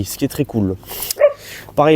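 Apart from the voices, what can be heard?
dog barking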